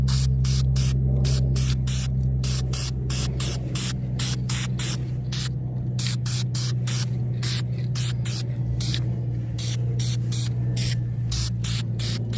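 Aerosol spray paint hisses steadily in bursts over cherry-red front brake calipers on a 2004 Suzuki GSX-R1000, a continuous close hiss with rapid pulsing and a low hum underneath, no talking.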